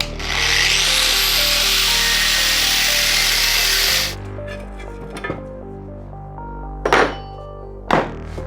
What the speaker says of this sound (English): we're gonna cut this spacer off because that's really the only chance we have of getting this onto there